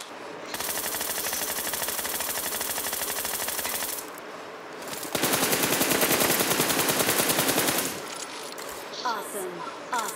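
PUBG Mobile gunfire, set in a battle-royale match with Groza and AWM loot, comes as two long rapid automatic bursts of fast, loud, close shots with a short break between them, and excited talk runs in between.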